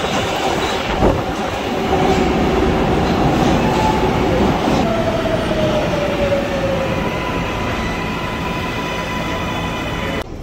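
A crowded New York 7 subway train runs toward Flushing in Queens, giving a steady, loud rumble with rail clatter and brief high wheel squeals throughout.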